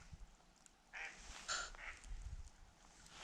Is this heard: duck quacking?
yes